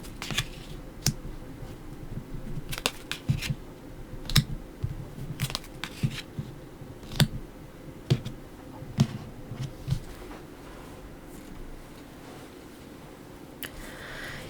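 Tarot cards are laid out and flipped over during a weekly horoscope reading, giving scattered sharp snaps and soft slides over a steady background hiss, close and without voices.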